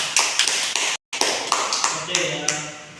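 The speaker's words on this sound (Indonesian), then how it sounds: "tepuk tangan untuk adik Anda" Classmates in an Indonesian primary school lesson clap for a younger pupil, a run of sharp, close hand taps with a brief pause, over a faint voice in the room.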